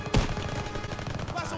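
Gunfire in the World War II shooter Call of Duty WWII during a battle to liberate Paris, a sharp near shot followed by rattling bursts of fire under the game's battle noise.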